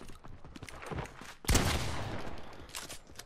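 Gunfire in the video game Fortnite during a Nuketown gun-game one-on-one match: scattered small shots, then a sharp loud burst of a fusillade that trails off into a sustained noisy rattle.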